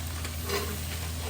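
Chicken sautéed in a pan with ground pork for pancit palabok, a steady close sizzle of frying with light stirring scrapes and no talk over it.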